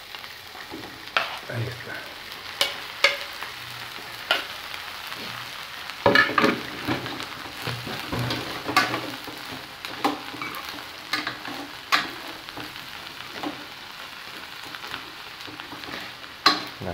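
Beef and pork with tomato fry in a discada, a steady close sizzle broken by repeated scraping and stirring knocks of a utensil on the metal, with a brief spoken remark.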